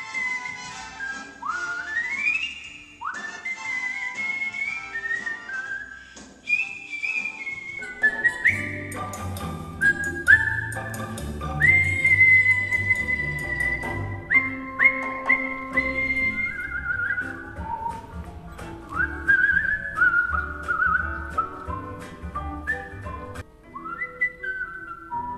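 A performer whistles a melody on stage in Lewisburg, North Carolina, the clear, bright tune gliding and sliding between notes. Accompanying instruments join partway through beneath the whistling.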